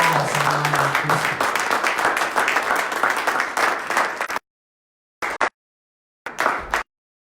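A church congregation applauds together, a dense, loud wash of clapping that lasts about four seconds, then cuts off abruptly, followed by a couple of brief bursts with gaps of silence.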